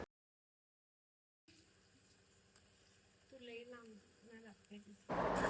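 Ginger, garlic and coriander paste frying in oil for a spicy dry fish dish: a faint steady sizzle after a silent start, with a voice talking over it, then a louder burst of sizzling as stirring begins at the end.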